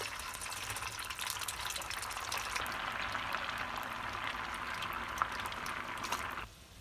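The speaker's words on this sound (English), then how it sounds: "I'll start with frying tofu in 375-degree Fahrenheit" Tofu deep-fries in 375°F oil, a steady sizzling and bubbling, a constant crackling hiss that cuts off abruptly near the end.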